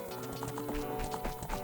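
Horse hooves clip-clop at a steady, quick rhythm on the ranch in the video game Ocarina of Time, layered over continuous game music.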